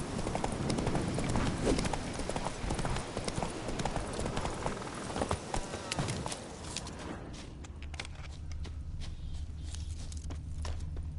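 The horse Roach trots along in The Witcher video game, a steady clip-clop of hooves that stays close and continuous, with the background thinning out partway through while the hoofbeats carry on.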